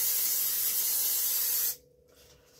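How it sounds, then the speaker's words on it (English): A close, steady hiss of cooking oil spray onto an air fryer for under two seconds, then it cuts off into near silence. "I got my air fryer here, I'm going to spray it"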